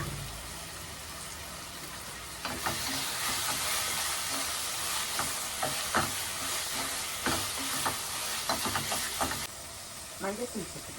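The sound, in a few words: oil heating and sizzling in a cooking pan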